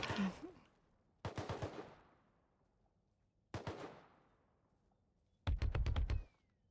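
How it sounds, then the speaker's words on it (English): Sharp bursts of gunfire from a scientist NPC in Rust, heard as three quick multi-shot volleys spaced a couple of seconds apart, then a fourth louder, closer burst, with quiet gaps between. "Oh, now the scientist shoots me."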